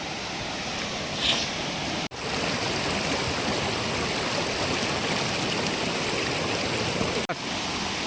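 Water rushing steadily down a hillside stream or waterfall, a loud, dense, continuous roar heard close by with no talking.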